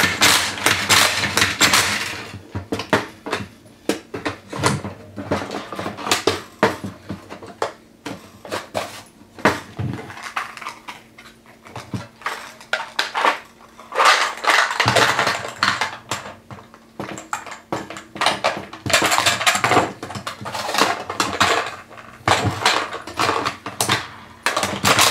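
Plastic AR-15 magazines, including a Magpul, clatter and click as they are handled and loaded with a Caldwell mag charger, giving sharp irregular taps and knocks in close, busy bursts with quieter pauses between them.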